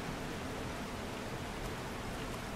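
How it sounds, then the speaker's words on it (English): Rain falls steadily across the Blasted Lands in a survival video game, a constant, fairly soft broadband hiss with no breaks and no voices over it. "is the rain finally going away?"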